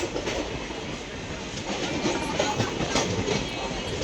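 Aurangabad Express 17253 rolls into Aurangabad Junction, a steady loud rumble of railcars with rhythmic clickety-clack of wheels over rail joints throughout.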